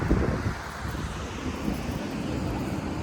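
Wind buffets the microphone in low, uneven gusts, a broad rushing noise that stays fairly steady throughout.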